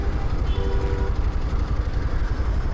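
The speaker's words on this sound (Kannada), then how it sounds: "ಇಲ್ಲಿ ಮೆಟ್ರೋ ಇದೆ ನೋಡಿ ಪಕ್ಕದಲ್ಲಿ" A metro train rumbles past nearby near Ambedkar station and Vidhana Soudha with a deep steady roar, a brief high metallic squeal cutting through early on.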